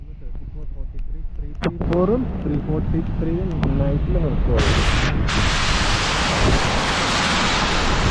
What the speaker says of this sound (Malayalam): പക്ഷേ ഒരു രക്ഷയില്ലാത്ത കാറ്റ ഉണ്ടല്ലേ.